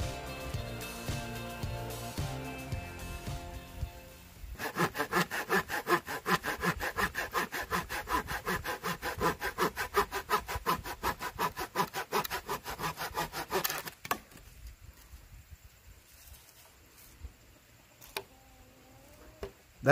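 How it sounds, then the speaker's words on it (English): A Fiskars folding saw cuts through a small wood limb outdoors, a fast rhythmic rasp of back-and-forth strokes that starts abruptly, runs steadily for about ten seconds and stops, followed by quiet handling sounds. "Let's go ahead and try the small limb and see how the Fisker does."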